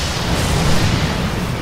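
A lightning strike cracks down in a rainstorm, a deep rumbling thunderclap that stays heavy and sustained from start to finish.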